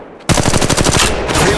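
Rapid automatic gunfire in Apex Legends Mobile, a loud, close, steady burst of fast repeating shots after a brief quiet moment.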